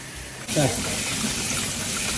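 Water gushes steadily over boiled rice as it is drained and rinsed in a kitchen, a continuous rushing flow with a brief splash at the start, under a voice speaking.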